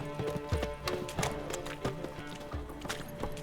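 Horse galloping in The Witcher 3, rapid rhythmic clip-clop hoofbeats over a steady, even pace with game ambience underneath, close and continuous throughout.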